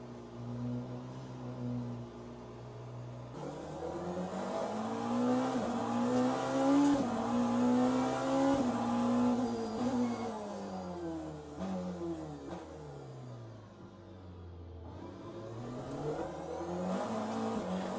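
Hypercar engine in the sim racing game Le Mans Ultimate, revving hard and rising and falling through gear changes, with a sustained loud tone, a brief drop near the middle and steady acceleration again toward the end.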